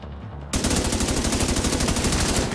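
Rapid automatic gunfire in The Division 2 video game bursts in loudly after a quiet moment and keeps up an even, fast rattle of shots without pause to the end.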